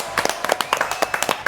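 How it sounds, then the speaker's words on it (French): A studio audience claps for a guest named Kevin Olivier, giving a short, brisk burst of dense, loud applause. "Applaudissements pour Kevin Olivier."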